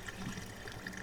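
Water trickles and gurgles faintly through a siphon hose on a boat. The flow is low and steady, with small bubbling pulses.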